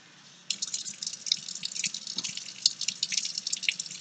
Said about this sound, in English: So this is your water. Fill it up with just enough there.